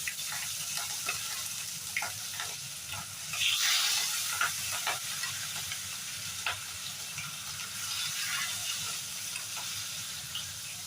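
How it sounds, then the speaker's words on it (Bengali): Hilsa fish pieces fry in smoking-hot mustard oil with a continuous hiss and sizzle, broken by sharp crackles and spits and a louder flare a few seconds in. "এবার আস্তে আস্তে মাছগুলো প্রথমে দিয়ে ভেজে তুলে রাখবো।"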